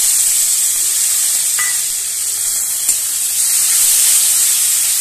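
Chopped tomatoes go into a frying paste of cumin, garlic and chilli with salt and turmeric for a bhola fish curry; a steady, close hiss of sizzling runs throughout, with a couple of faint ticks.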